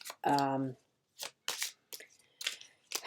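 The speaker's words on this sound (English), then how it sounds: "I'll shuffle the cards whilst I'm doing it" Playing cards being shuffled in a series of short, crisp riffling bursts, each separated by a brief pause; a quick voiced sound comes just before the first burst.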